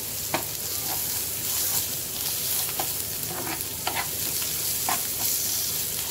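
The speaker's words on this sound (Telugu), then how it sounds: "ఈ అల్లం వెల్లుల్లి పేస్ట్ ఉంది కదా అది పచ్చి వాసన పోయే వరకు ఇలా ఫ్రై చేసేసుకోండి" Ginger garlic paste with turmeric and cumin-fenugreek powder frying in a pan, a steady close sizzle throughout with repeated scraping stirs of a spoon breaking through at irregular intervals.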